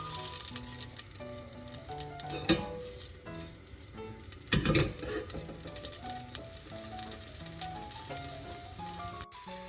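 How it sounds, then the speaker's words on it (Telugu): Green chillies fry in hot oil in a pan, giving a steady sizzle with a couple of louder spitting bursts and faint clinks. No one speaks, and background music plays throughout. "నూనె కాగింది. ముందు పచ్చిమిర్చి వేసేసుకుందాం."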